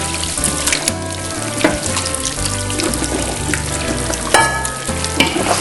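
Ground deer and beef bologna meat is turned and mixed by hand with spices added a little at a time, giving a steady, close squelching and rustling texture with a few sharper slaps and no voices.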